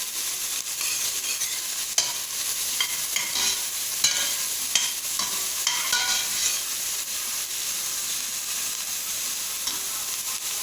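Two large garlic cloves frying in a pan, giving a steady close hiss of sizzling oil with occasional scrapes and taps of a stirring utensil, no voices.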